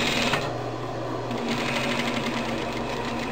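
An electronic quilting sewing machine stitching a fabric phone holder, a steady, fast, close mechanical whir and clatter running without a break through the whole stretch.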